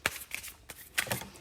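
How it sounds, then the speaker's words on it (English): Tarot cards are shuffled by hand in a brief, close sequence of crisp riffling slaps and soft papery flutters, heard alone without talk. "I'll go ahead and shuffle live."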